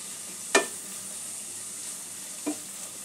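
Vegetables for chicken egg soup sizzle lightly in a pan under a soft, even hiss, broken by two brief stirring scrapes, one sharp and one fainter; quiet and close, with no speech.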